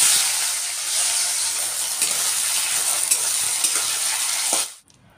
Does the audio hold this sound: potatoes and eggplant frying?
yes